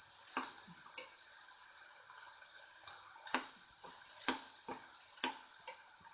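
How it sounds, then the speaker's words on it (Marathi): Rice being sautéed with spices in a pan for peas rice: a continuous soft sizzle with repeated scraping stirs of a spoon across the pan, close and steady, with no voices. "तांदूळ परतून घेऊया।"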